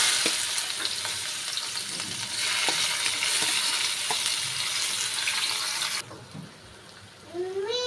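Chopped onion and tomato frying in hot oil in a pan for a Malvani dried-shrimp dish, a dense continuous sizzle that suddenly cuts to quieter crackling near the end, with a brief rising tone at the very end.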